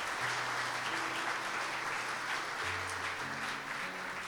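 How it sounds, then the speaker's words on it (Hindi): A church congregation at a Christmas service applauds loudly and continuously, dense clapping filling the room throughout with a low sustained tone running underneath. "जोरदार तालियां इनके लिए बजाएं"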